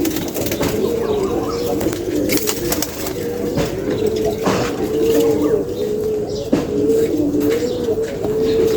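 Pigeons cooing steadily in a rural loft, a continuous low rolling coo from several birds close by, with occasional soft chirps and wing flutters and no talking.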